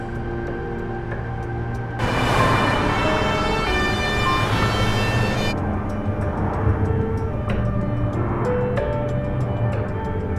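An ambulance siren wails steadily from within the vehicle during an emergency run for a fall victim, rising over a constant road rumble for a few seconds before fading, while a light rhythmic ticking continues.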